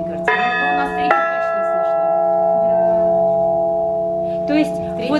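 A church bell, the third bell of the church, rings with two strong strikes, each leaving a long, shimmering hum that slowly fades, while people talk quietly nearby.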